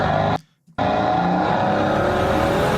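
A Maybach Exelero engine roars loudly from a played video, a dense, steady motor rumble that cuts out briefly before surging straight back at full volume.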